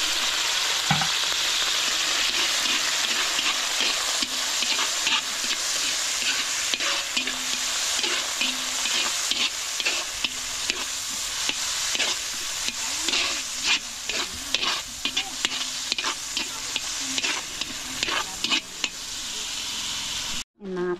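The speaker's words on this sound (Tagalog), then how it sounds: "Gisahin natin ng bawang at sibuyas." Garlic and onion sauté in a hot pan with a loud, continuous sizzle, punctuated by frequent scraping and clinking of a utensil stirring against the metal throughout.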